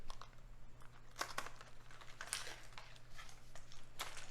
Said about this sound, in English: how does this box open? It looks like it should tear